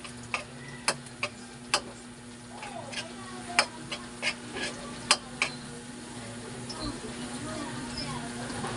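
Food fries in a pan during an Asian cuisine cooking class, a steady low sizzle punctuated by sharp, irregular utensil ticks, with voices talking throughout.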